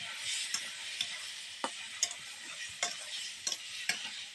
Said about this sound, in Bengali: এবার এর মধ্যে সামান্য পরিমাণে একটু জল দিয়ে দেবো মশলার জলটা